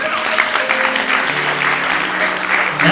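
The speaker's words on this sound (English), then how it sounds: "Can we give him a round of applause?" An audience at a live show breaks into applause, a full, steady wash of many hands clapping close up for a few seconds, with a voice heard briefly over it.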